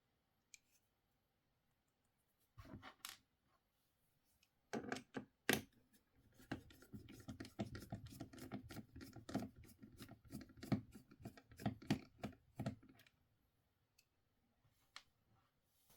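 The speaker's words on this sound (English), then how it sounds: "Let's start unscrewing those screws." Small screws are backed out of a laptop casing with a screwdriver, making faint, rapid bursts of ticking clicks separated by short pauses in an otherwise quiet room.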